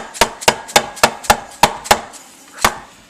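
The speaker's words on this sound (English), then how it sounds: "I just use a mallet." A mallet hammers on the primary clutch of a Honda Fourtrax 300 ATV, eight sharp knocks in a fairly even rhythm with a brief pause before the last one, close and loud.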